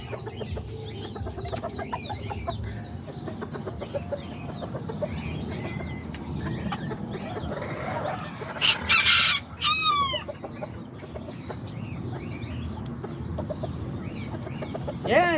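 Azteca and Serama chickens cluck steadily at close range in a backyard flock, and a rooster crows a few times partway through.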